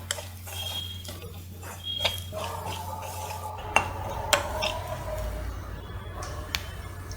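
Onions and masala sautéing in a pan for a Tamil fish masala roast, heard as scattered spoon scrapes and clinks of metal against the pan, with a few sharp taps over a low steady hum and only a faint sizzle.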